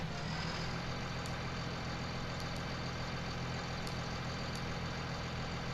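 A video game truck engine idles with a steady low rumble and faint hum, constant and unchanging throughout, no voices.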